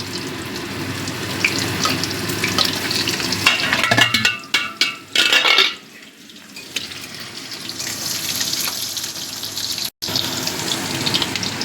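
Potatoes sizzle in hot oil with fried whole spices, with a burst of louder clattering and stirring midway before the frying settles back into a steady hiss.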